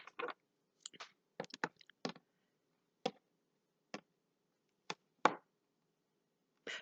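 A string of sharp, dry snaps and riffles, irregular bursts separated by short pauses, close and fairly quiet with no talking.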